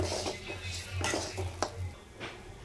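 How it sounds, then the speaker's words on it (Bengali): Semolina and vegetables for upma being stirred in a pan, with a utensil scraping and clinking against the metal in irregular strokes, close and moderately loud over a low steady hum. "তো দেখো, আমি খুব সুন্দর করে মিক্স করে নিয়েছি, এখন একটু ভাজা ভাজা করে নেব।"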